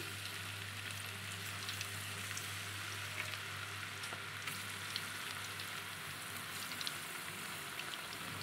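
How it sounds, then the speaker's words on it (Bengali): Chicken pieces frying in plenty of oil for a homemade restaurant-style chilli chicken, giving a steady, even sizzle that continues unbroken throughout at moderate level, with no voices. "এইদিকে আমার চিকেন ভাজা হচ্ছে"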